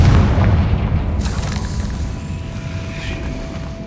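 A loud booming fire-spell explosion from Hogwarts Legacy, the Confringo curse, bursts up close and then rolls off into a fading rumble with a crackling tail.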